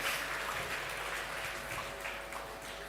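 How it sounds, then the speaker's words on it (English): An audience at an awards ceremony applauds in a continuous wash of clapping, moderately faint and sustained throughout, with a low hum in the background. "give yourself a huge round of applause"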